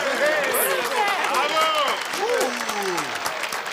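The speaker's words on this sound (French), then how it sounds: "Oui, vous pouvez les applaudir très fort." Audience applause for performers at a lively evening show, with steady clapping and crowd noise under someone talking loudly over it.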